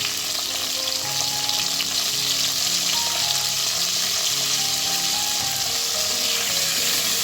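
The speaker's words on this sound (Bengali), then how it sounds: "লবণ দিয়ে নেড়ে ঢেকে রাখবো" Mango chutney frying in a pan after salt has been added, with a steady, even sizzle throughout and a faint stirring texture underneath, and no voices.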